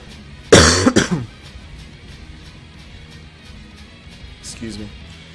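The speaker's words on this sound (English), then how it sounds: "That was a very loud cough." A single loud, harsh cough bursts out close to the microphone and then fades, leaving quiet background game sound with a brief murmur of voice later on.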